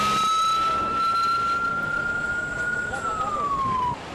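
A loud, steady fire engine siren wail holds one high tone, then slides downward near the end, over a rumbling background of traffic noise.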